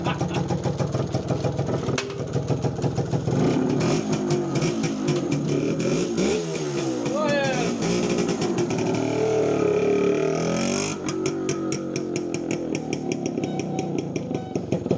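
An MZ ETZ 125 two-stroke motorcycle engine running near and loud on a test ride without a fuel tank, rapid pulsing exhaust rising and falling through revs.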